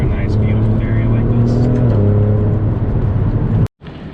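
An Alfa Romeo Giulia Quadrifoglio drives through a lush green canyon, its engine giving a steady loud droning hum from inside the car with road noise, ending in a sudden brief cut.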